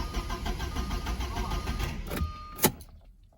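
A Porsche 944 engine is started in a garage: a low, steady mechanical rumble with a faint whine builds and then ends in a sharp clunk before near silence.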